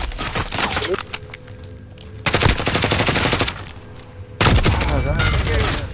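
Bursts of automatic gunfire from Call of Duty Warzone, loud and close, coming in three dense volleys with short gaps between them.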